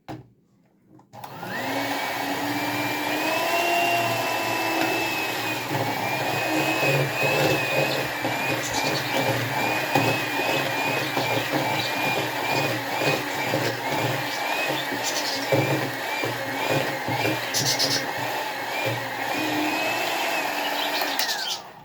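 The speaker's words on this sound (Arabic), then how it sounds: "طبعا بفضل اضرب فيها لغايه اما البيضايه تختفي" An electric mixer beats cake batter after an egg and vanilla go in, giving a loud, steady motor whine that holds for the whole stretch with slight shifts in pitch as the beaters work and no talk over it.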